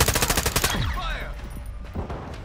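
Sentry gun in Call of Duty: Modern Warfare II firing a rapid, loud automatic burst of about eight evenly spaced shots up close, then cutting off into ringing echoes and a faint background rumble.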